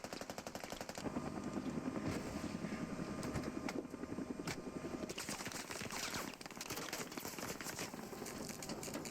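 A video game helicopter flying under fire, its rapid rotor chop steady throughout, with bursts of gunfire crackling around it.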